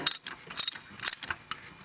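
A wrench turns a spark plug on a Honda Fit, giving several short metallic ratcheting clicks in uneven bursts, close and fairly clear, with no talk.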